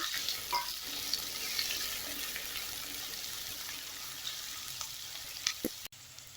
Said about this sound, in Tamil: இப்போ எல்லாத்தையும் சேர்த்து நல்லா வதக்கி விட்டுக்கலாம்